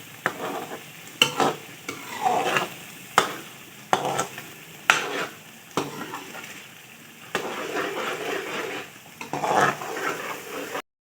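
Frozen beef koftas are stirred into hot masala in a pan. Repeated spoon scrapes and clanks come in an uneven rhythm over a soft, continuous sizzle, close and clear, with no talking.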